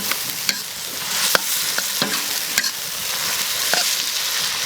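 Water bamboo shoots and beef stir-fry in a hot wok, hissing and sizzling steadily while a spatula scrapes and clacks against the metal at irregular moments.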